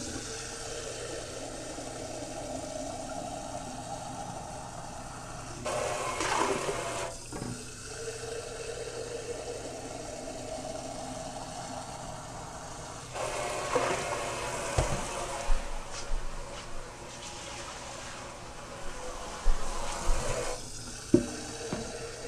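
Tap water runs in bursts into a pressure cooker being filled for mushroom grain spawn, a steady close stream that starts, stops and restarts with clunks of the pot in a quiet indoor kitchen.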